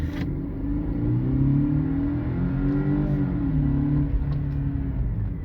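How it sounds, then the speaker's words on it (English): A Mercedes-Benz AMG car accelerates on an empty road, its engine rising in a steady, close, continuous rumble with a revving pitch climb and no talk. "This car gets up and picks up for sure"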